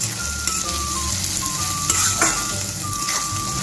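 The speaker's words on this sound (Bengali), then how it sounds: "হালকা লাল করে ভেজে নেব" Sliced onions sizzle in a hot pan alongside whole garam masala, a close, dense crackle with intermittent scraping of a spatula stirring through the pan.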